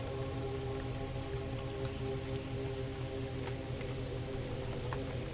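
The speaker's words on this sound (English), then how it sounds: "The rain is gentle, and the field receives it without resistance" Gentle rain falls over an open field at dusk, a soft, steady patter with no breaks and faint scattered drips on top.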